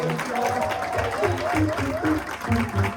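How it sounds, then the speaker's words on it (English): Applause from an audience fills the background while a voice talks over the clapping. "Clap it up for her."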